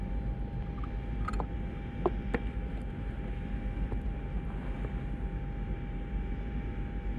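Airliner engines droning steadily in flight as cabin ambience in a 1995 disaster film, a continuous low rumble with a few faint clicks and knocks on top.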